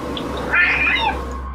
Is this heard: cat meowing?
yes